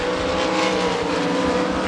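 A 305 sprint car races around the dirt oval at Devil's Bowl Speedway in Texas during qualifying, its engine roaring loud and steady at high revs with a constant throaty drone and no break.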